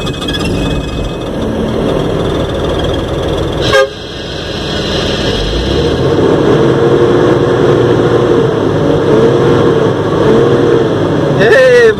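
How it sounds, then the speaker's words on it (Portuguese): A heavy truck engine runs loud and close with a throaty idle that swells into a rev, a sharp horn-like blip near the start and another burst at the end, with someone speaking over it. "o guarda mandou eu ligar o caminhão e dar duas pisadas boas pra ele ouvir o barulho"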